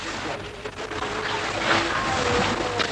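A sailboat moves very slowly at sea in fog, with a continuous wash of water and wind rush against the hull, moderately loud and close, with no distinct events.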